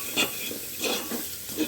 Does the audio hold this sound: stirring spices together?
yes